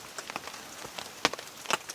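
Steady morning rain patters on a campsite, a soft broadband hiss broken by a few louder close drops or taps, fairly quiet overall with no talking.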